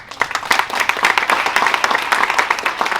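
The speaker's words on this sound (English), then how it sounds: "I just want to give Dr. McCord and Karina a round of applause." Audience at a women in construction panel discussion clapping together, a dense, lively burst of many hands at close range that starts abruptly and holds steady throughout.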